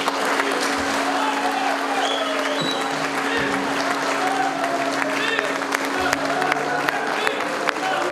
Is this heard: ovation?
yes